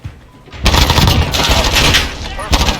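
Rapid bursts of automatic gunfire from the Modern Warfare video game during a Hardpoint match, loud and dense for about two seconds, then a short final burst.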